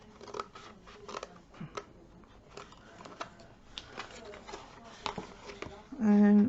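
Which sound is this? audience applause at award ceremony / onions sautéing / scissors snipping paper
scissors snipping paper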